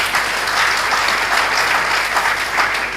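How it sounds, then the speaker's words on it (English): Loud, dense audience applause fills a policy event hall, a steady wash of many hands clapping close by with no talk over it. "Please, can we make the applause a bit louder than that?"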